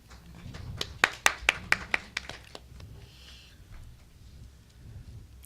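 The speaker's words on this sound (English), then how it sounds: "One more clap." A small group at a school board of education meeting claps briefly: about eight distinct sharp hand claps in an uneven burst, then fading into quiet room noise.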